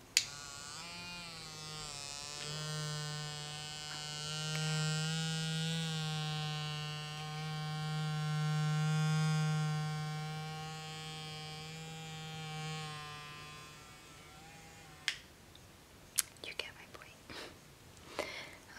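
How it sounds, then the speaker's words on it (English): An electric shaver buzzes steadily and close up for about fifteen seconds in a head-shaving role play, then gives way to a few sharp clicks and taps. "I kept this so that way I can do like a role play with it. So that way, like, it sounds like I'm shaving your head"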